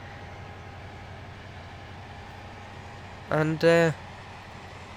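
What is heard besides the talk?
Connect train running, Roblox video game Stepford County Railway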